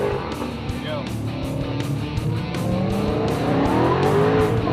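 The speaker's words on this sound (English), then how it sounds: "you can actually take a thrill ride in a Charger and find out what true American horsepower is really like." A Dodge Charger accelerates hard on a passenger thrill ride, its engine roaring loud and close with rising, sweeping pitch throughout, broad road and tire noise underneath, and voices faintly audible beneath the engine.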